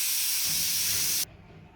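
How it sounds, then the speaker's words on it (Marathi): A pressure cooker lets off a loud, continuous hiss of escaping steam for over a second while cooking rice, then cuts off abruptly and leaves a quieter low background hum. "कुकरला फक्त 2 शिट्ट्या द्यायच्या आहेत"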